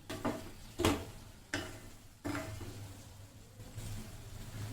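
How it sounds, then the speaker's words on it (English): Mixed vegetables for vangibhaat sauté on high flame, quiet frying with a handful of distinct stirring scrapes and clatters spaced through the clip over a low background hum. "Now you can do it on high flame. Saute it very well."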